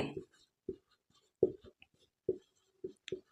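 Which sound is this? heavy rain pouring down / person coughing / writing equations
writing equations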